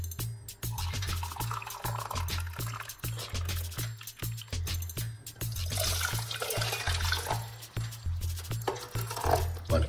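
Hot water is poured into cups with a soft, continuous splashing under a steady low music beat.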